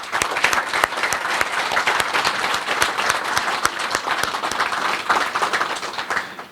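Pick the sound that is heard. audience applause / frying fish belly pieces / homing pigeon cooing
audience applause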